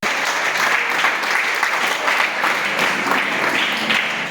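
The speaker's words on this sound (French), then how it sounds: "Est-ce que tu peux acclamer pour la parole de Dieu?" A church congregation applauds for the word of God, a steady, full round of clapping from many hands that holds at an even level throughout.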